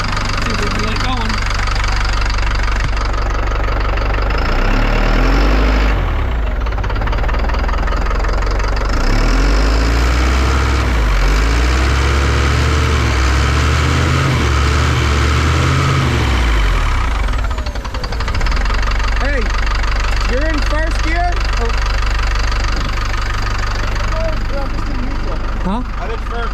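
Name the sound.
Cat loader engine running as throttle is given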